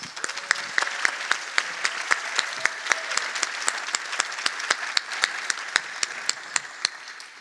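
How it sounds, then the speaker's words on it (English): Audience applause for candidates at the end of a North Charleston mayoral debate, steady clapping from a room of people with distinct sharp individual claps standing out nearby throughout. "Let's please give them a round of applause."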